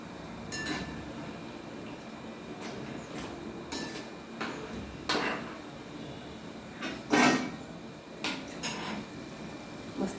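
Moong dal papdi fries in hot oil with a steady soft crackle and bubbling, punctuated by scattered clinks of a utensil against the pan; quiet and close with no talk.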